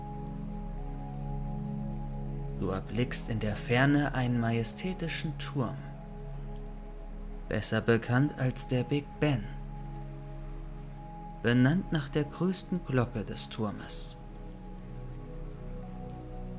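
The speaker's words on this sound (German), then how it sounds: "Du spürst die kühlen Regentropfen auf deiner Haut" Steady rain falls on a dreary day in old London near Big Ben, a soft continuous patter under calm German narration throughout.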